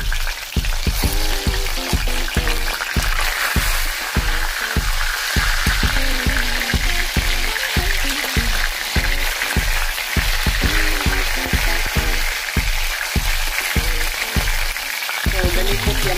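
Fish coated in corn flour fries in hot oil for a home-cooked sweet and sour lunch, a steady crackling sizzle broken by repeated sharp clatters of a utensil stirring and tapping the pan.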